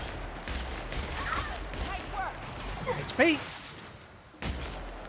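Gunfire in The Outer Worlds, a few dull thumping shots scattered under steady game noise and a talking voice, with a louder hit near the end.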